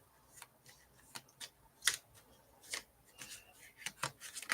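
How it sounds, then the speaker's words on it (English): Quiet, intermittent flicks and riffles of tarot cards being shuffled, soft snapping bursts at irregular intervals, close by and faint. "going to shuffle while we're waiting."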